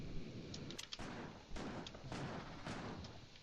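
Shotgun blasts fire in the Factorio Space Age video game, several booming shots in quick succession, layered over a dense noisy wash of battle sound.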